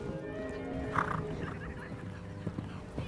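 Near a horse, a sharp neigh rings out early, with clip-clopping hooves and soft background rustle continuing throughout.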